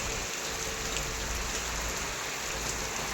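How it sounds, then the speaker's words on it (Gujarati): Steady rain pours down all day over farm fields, a dense, even hiss of drops on surfaces that carries on without a break. "વરસાદ જો આખા દિવસનો ચાલુ છે હજી પણ એટલો વરસાદ ખેતરોમાં"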